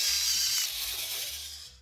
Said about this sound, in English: Grind them with your FinaMill into a small bowl.